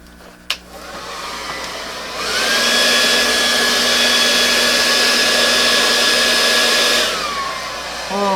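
A hair dryer blowing across wet acrylic paint switches on after a sharp knock, runs as a loud steady whirring whine for about five seconds, then cuts off and winds down.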